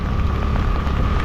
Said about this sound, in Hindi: वर्षा बहुत जोर पकड़ा